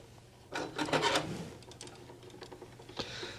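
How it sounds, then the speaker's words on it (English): The knurled metal cap of a Dillon XL750 reloading press primer magazine tube being unscrewed, close up, giving a soft gritty rubbing and scraping with a few small ticks and no talk. "So unscrew the knurled cap."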